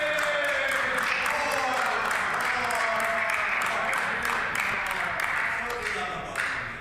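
Scattered applause and clapping in a provincial legislature chamber, a steady broadband patter running throughout with an underlying murmur of voices.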